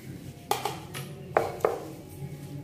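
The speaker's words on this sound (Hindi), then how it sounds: "इस तरीके से प्रेशर देते हुए इनको हमें दरदरा दरदरा पीसना है" Fried garlic cloves and chillies are pounded coarsely for a Kolhapuri chutney, giving four distinct hard knocks in two quick pairs with short ringing tails, close by in a quiet kitchen.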